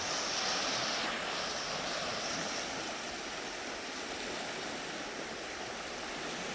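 Floodwater in a Florida creek rushes over a wide rocky drop of about fifteen feet, a loud, steady roaring wash that fills the whole clip without pause.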